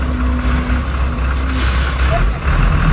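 A commercial-sized dump truck loaded with oak firewood: a loud, rumbling diesel engine idling close by, with a hiss of air brakes and a voice talking over it.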